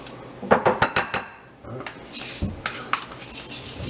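Cream cheese spread being scooped out of its tub into a bowl with a utensil, heard as a quick burst of close metallic clinks and taps against the container, then softer scraping knocks, with no talking.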